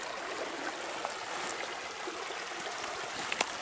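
Water of Pope Creek, California runs steadily over a gravel bed, a soft continuous trickling wash with faint bright splashes, heard alone at low level without any talk.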